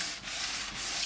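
Light-grit sandpaper on a sanding block rubs along the grain of wood in steady, close, scratchy strokes, with no talking.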